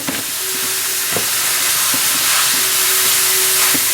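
Ground beef frying in a dry pan without oil, a loud, steady sizzle and hiss with occasional soft scraping taps, no voices.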